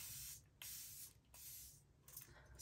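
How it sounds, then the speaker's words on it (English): Charlotte Tilbury setting spray hisses out in a few short, bright bursts with brief pauses between them, close and quiet, no voices. "spray that all over"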